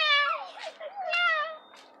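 A person in a swimming pool imitates a cat, giving a couple of drawn-out, falling meows followed by a short, fainter one.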